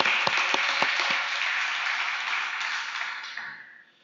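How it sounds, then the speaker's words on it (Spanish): Church congregation giving a loud round of applause at an anniversary service, dense clapping from many people with a few sharp claps early, fading out toward the end. "¿Qué tal si damos un fuerte aplauso al Señor por eso esta noche?"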